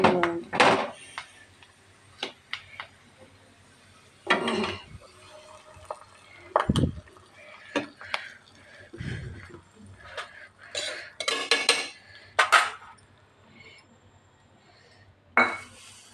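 Clinks and scrapes of a spoon against a metal pot of spinach dal with tempering come in irregular bursts, with quiet gaps between the stirring strokes and no talking.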